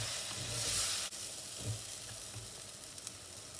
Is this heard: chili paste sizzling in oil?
yes